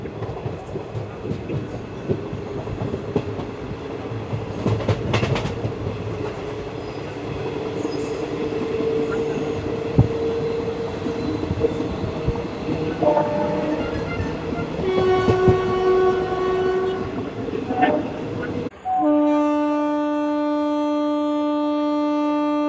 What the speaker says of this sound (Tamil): சிக்னல் இப்போ தான் கிளியர் பண்ணாங்க. So train கிளம்பிருச்சு.